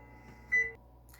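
A kitchen timer gives one short, clear electronic beep as it is set for 35 minutes while a blueberry coffee cake bakes, alone against quiet room tone.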